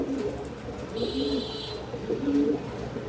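Large racer pigeons in breeding mood coo in low, soft repeated phrases, two clear bouts close by over a steady background hum.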